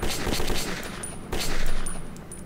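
Dense rapid gunfire from a Metro 2033 firefight, loud and continuous with a brief dip before it surges again, forming a sustained burst of overlapping shots.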